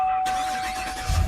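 2017 GMC Yukon Denali with a 6.2 liter V8 starting by push button, a brief starter whir that catches into a low rumble as the engine fires, heard from inside the vehicle.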